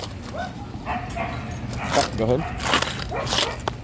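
Dogs at a rescue playgroup bark, yip and whimper in short bursts nearby, while a handler talks over them.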